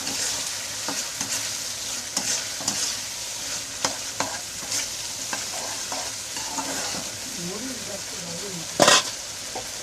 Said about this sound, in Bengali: মশলা ভালো করে কষানো গেছে এখন আলু দিয়ে কষাই দিই আলুটা কষে